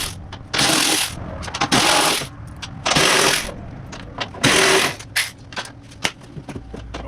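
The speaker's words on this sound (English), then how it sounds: "I'm gonna go ahead and unbolt this hood latch assembly" A ratchet works loose the hood latch assembly bolts on a 1971 Chevy Camaro, sounding as loud, close bursts of rapid clicking separated by brief pauses.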